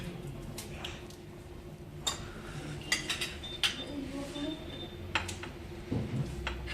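Cutlery scraping and clinking against a plate while cutting tough, chewy rishta, several sharp metallic taps and scrapes scattered over quiet restaurant background, with soft voices at times.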